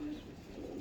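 A single soft, low pigeon coo, brief and fairly close, over faint background noise.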